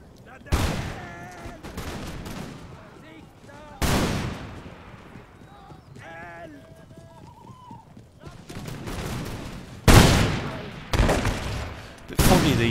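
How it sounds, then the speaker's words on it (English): Musket volley fire in a Darthmod Ultimate Commander battle from a Denmark campaign: several loud, sharp crackling volleys burst out at irregular intervals, with fainter battlefield voices and horse sounds between them. "Right, volley fire."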